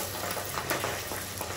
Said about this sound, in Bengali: কড়াইয়ে দেওয়ার সাথে সাথে দেখো কেমন ফেনা ফেনা হয়ে গেল